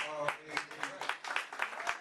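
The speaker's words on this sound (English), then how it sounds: "round of applause" An audience at a Black LGBTQ and allies celebration of Illinois marriage equality claps steadily, with a close, sharp clap repeating in an even rhythm over the crowd's fainter clapping.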